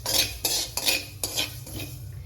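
Cumin and mustard seeds dry roasting in a kadai over low flame, stirred with a metal spoon in several distinct scraping, clinking strokes at close range.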